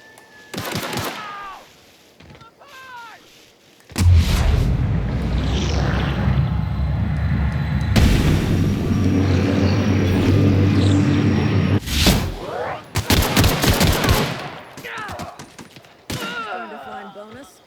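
Gunfire in The Outer Worlds video game, bursts of rapid shots and heavy blasts amid loud continuous rumbling game noise and scattered sharp cracks, with voices at times.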